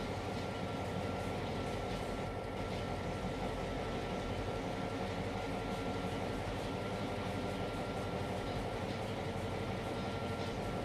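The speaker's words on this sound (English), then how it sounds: "Right, get this train up to the end here" A train rolls along steadily in Trainz: A New Era, a continuous broadband rumble and rolling drone with no clear breaks, moderately loud throughout.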